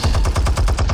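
Rapid turret gunfire in the Batman Telltale game, a loud steady machine-gun stream of about ten evenly spaced shots in one second, with no voices.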